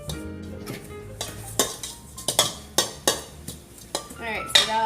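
Cookie dough being mixed in a bowl for baked cookies, a series of scraping, knocking strokes of a utensil against the bowl at close range, with occasional louder clacks and brief vocal sounds near the end.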